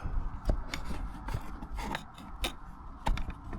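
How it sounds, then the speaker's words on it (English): Saw or cutter cuts through the steel exhaust pipe on a Scania V8 truck, giving several short, sharp rasping strokes and clicks up close, spaced irregularly over a low background rumble. "first thing we want to do is cut this pipe"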